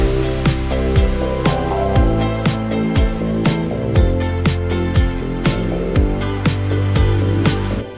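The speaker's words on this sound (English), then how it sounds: "you get the finished beat, which sounds like this" A finished pop beat with punchy kick and snare hits on a steady rhythm, sliding bass notes and layered melodic synths, loud and unaccompanied by talk.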